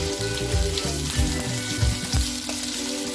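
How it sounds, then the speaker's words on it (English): Green chilies and bay leaf frying in a pan, a constant bright sizzle with bursts of spattering and a few spoon stirs, near and steady, without anyone speaking. "We'll stir them until they become soft."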